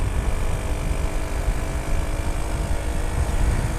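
Lexmoto Aspire 110cc motorcycle engine held at high revs while climbing a steep hill, a steady loud drone with wind buffeting, continuous throughout.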